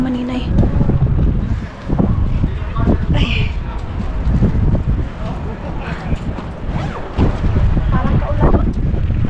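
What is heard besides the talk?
strong wind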